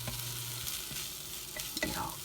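Gondre greens stir-fried in a pot that should not take high heat, giving a steady close sizzle with scraping and stirring clatter throughout, no voices.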